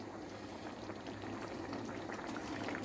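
A pot of meat stew bubbling and simmering steadily, with continuous soft gurgling and popping close by and no voices.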